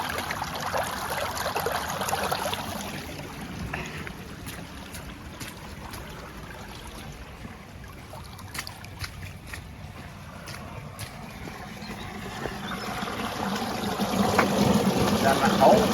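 Water runs steadily down a levada irrigation channel in Madeira, a continuous close rushing and trickling that swells toward the end, with faint occasional clicks.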